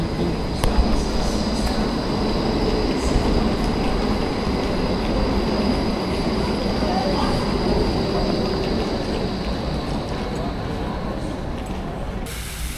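Rumble and rattle of a T1 tram line carriage riding through Ghent, a steady loud rolling drone with faint wheel squeal over the whole stretch, no speech.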